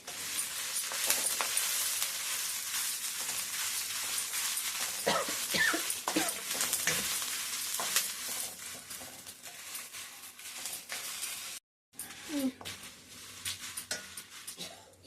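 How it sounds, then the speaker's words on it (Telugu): Torn green chillies frying in oil in a pan, a bright continuous sizzle with scattered crackles and stirring scrapes, briefly cut off then resuming, with occasional low whimpering sounds in the background. "మిర్చిని ఈ విధంగా తుంచి పెట్టుకొని వేయించుకోవాలి"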